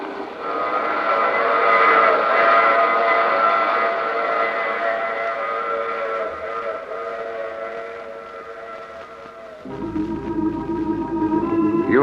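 A train rumbles past loudly with a sustained whistle-like tone, then the sound shifts abruptly to a lower, rougher rolling noise near the end.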